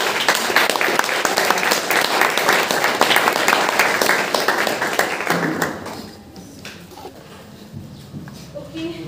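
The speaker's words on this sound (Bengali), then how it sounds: "আমরা সকলে জোরে হাততালি দিয়ে দিদিকে" A church congregation claps loudly to welcome a speaker, with dense, sharp applause lasting about six seconds before it thins out to scattered claps and taps, and a voice starts speaking near the end.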